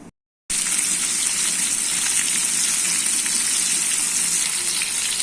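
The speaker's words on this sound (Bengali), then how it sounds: "মাছটা আমি ভাবে উল্টে দিয়ে আবারও ভেজে নিচ্ছি" Pieces of catla fish fry in hot oil in a frying pan, giving a loud, steady, dense sizzle that starts after a brief silent gap and holds without pause, with no voices.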